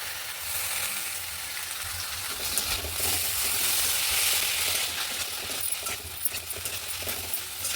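Onion and tomato fry together in a pan for a dhaba-style paneer masala, producing a continuous, fairly loud crackling sizzle with occasional clinks and stirring noises throughout.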